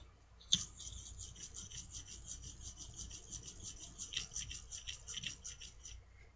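A straight razor is honed on a stone with a faint, close, scratchy rubbing. Soft strokes repeat in a quick, steady rhythm, and a small click comes early on.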